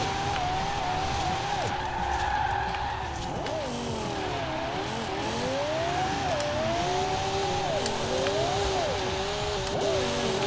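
A near-1300 hp A800 rear-wheel-drive drift-tuned Lexus IS F spins its warmed-up tires, with long wavering tire squeals and screeches over a steady engine drone, sustained and fairly close.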